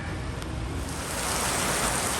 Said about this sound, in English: All right, it's pouring out.